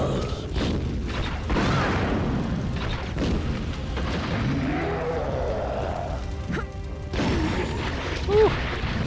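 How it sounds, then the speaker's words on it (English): Point-blank grenade explosions in Resident Evil 3. Several heavy, booming blasts and crashes go off in quick succession, close and loud, mixed with game effects, and a voice talks over parts of it. "Point blank grenades."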